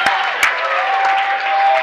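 Crowd at a boys high school basketball game for the MG Silver Eagles, a steady roar of cheering and applause at moderate distance, with a couple of sharp claps and whistles cutting through the din.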